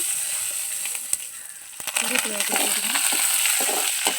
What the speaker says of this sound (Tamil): வடகம் நல்லா பொரிஞ்சிச்சு